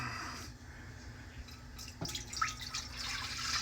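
Four cups of water poured into a cooking pot for making rice in a home kitchen, a soft continuous splashing and trickling close by, with a brief clunk partway through and no talking.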